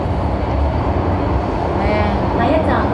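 MTR train pulling into Central station in Hong Kong, the last stop on the line, with a steady loud rumble of the moving train and faint brake squeals near the end, and a voice talking over it.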